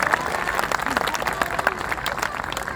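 Audience applause at a Hindi poetry recital (kavi sammelan), steady clapping from a crowd sustained throughout at moderate level, with some talk mixed in underneath.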